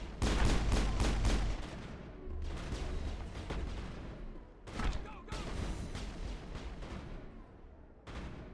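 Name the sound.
gunfire in a video game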